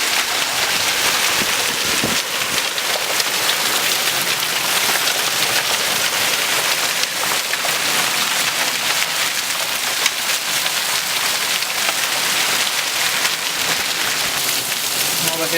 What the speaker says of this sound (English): it's raining so hard that there's actually water